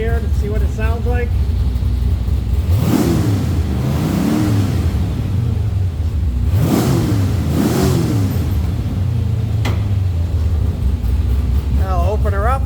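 A Superlite Aero car engine is revved in two pairs of sharp rising and falling blips, loud and close, between stretches of steady idle, with someone talking briefly.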